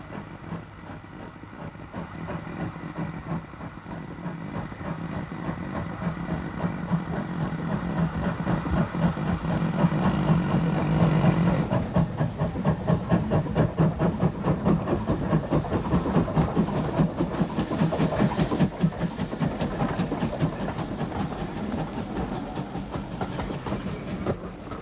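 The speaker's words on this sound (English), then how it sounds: "A classic combination of an auto coach and 1400 tank heads away from the junction" A GWR 1400 class steam tank engine with an auto coach pulls away from a junction, a steady rhythmic chuffing with rail clatter and hiss that builds and holds for the whole passage.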